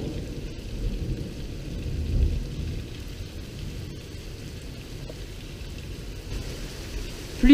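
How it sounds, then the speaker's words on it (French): Heavy rain pours steadily during a strong multicell thunderstorm in Tour-en-Sologne, a dense continuous roar with low thunder rumbling beneath it and no voices. "Pluie battante à nouveau."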